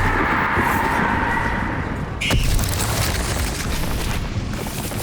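A Bombarda spell explodes in Hogwarts Legacy on Nintendo Switch: one sudden, sharp blast cuts through a loud, continuous rumble of game noise and fades quickly.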